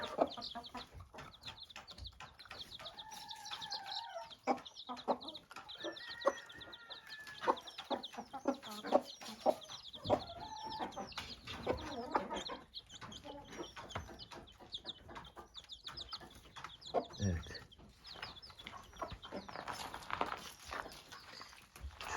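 A busy flock of chickens and chicks clucks and chatters continuously in a coop, with overlapping calls, high chirps and pecking clatter, fairly close and steady throughout.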